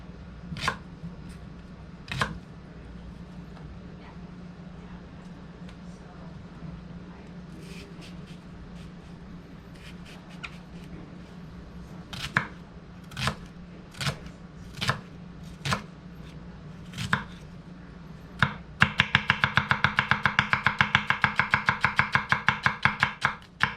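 A Dao Vua pipeline steel nakiri knife chopping a pepper on a cutting board, starting with sparse, separate crisp knocks and ending in a quick, steady burst of rapid close chops, with no talking.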